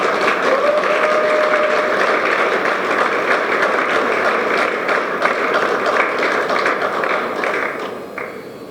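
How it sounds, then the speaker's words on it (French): Applause fills a hotel conference hall during a congress ceremony, dense, even clapping from a large seated audience that holds steady for several seconds before tapering slightly at the end. "Qu'ils soient là ou non, nous devons les applaudir."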